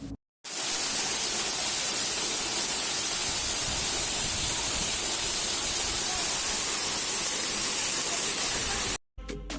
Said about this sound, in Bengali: ও সাথে ছিল ঝর্ণার তীব্র গর্জন। কি ভীষণ সেই আওয়াজ।